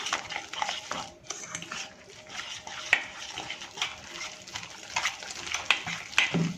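A spoon mixes thick Gujarati batter of bajri millet flour and besan in a bowl, making soft, uneven scraping and clinking strokes with occasional sharp taps, close up, with no talking.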